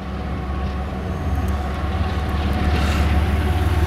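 CSX eastbound loaded coal train with helper locomotives rolling past, a heavy low rumble of wheels and engines building steadily louder and closer with rhythmic clatter over the rails.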